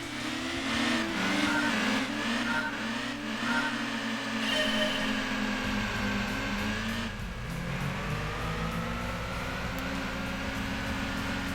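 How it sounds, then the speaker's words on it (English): A Toyota Prius in Gran Turismo 2 accelerates at full throttle, its engine tone rising and falling in smooth sweeps without gear shifts. The loud, steady whine dominates and no one speaks over it. "Got my foot floored right now."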